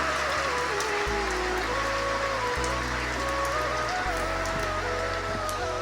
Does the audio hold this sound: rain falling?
yes